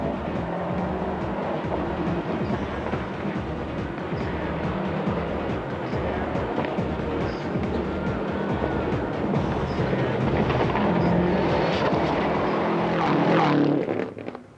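Subaru rally cars race along a stage of the 1999 Circuit of Ireland, engines roaring in a sustained, loud drone that swells toward the end before cutting off.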